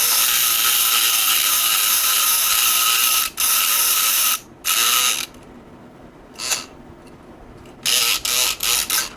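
A snap-style lock pick tension tool hammers against the broach inside a lock, making loud rapid buzzing, rattling bursts that stop and start in separate runs with brief quieter gaps between them.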